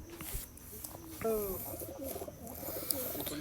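Aplook pigeons cooing softly at a distance from a pair kept in a home loft, a few low throaty coos over quiet room noise and faint talking in the background.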